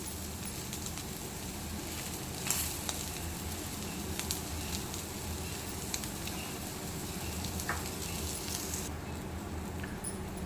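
A capsicum egg omelette with onion and green chilli fries in a pan, sending up a constant soft sizzle with occasional crackles and light taps.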